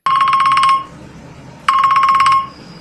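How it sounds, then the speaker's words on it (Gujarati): Ringback tone after a phone number is dialed: two loud electronic ring bursts, each lasting under a second, separated by a short pause, close and clear with nothing over them. "રે ડોહાનો નંબર લગાડ."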